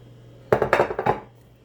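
A bacon dish set down among other dishes on a kitchen counter gives a short cluster of close clinks and clatters, several quick knocks in a row, then quiet.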